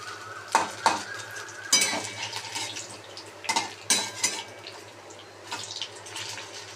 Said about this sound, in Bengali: আর এই যে এখানে পান্তা ভাতের আলু ভাজা হচ্ছে